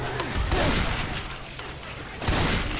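Rapid bursts of gunfire blast at zombies in Left 4 Dead 2, loud and close, with a burst at the start and another near the end, while players talk over the shooting.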